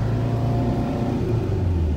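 A 1971 Porsche 914 with its mid-mounted engine pulls away in first gear, a steady, close low engine drone holding under the cabin with a faint rising note and no talk.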